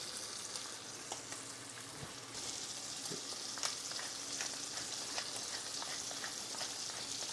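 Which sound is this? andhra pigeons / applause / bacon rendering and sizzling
bacon rendering and sizzling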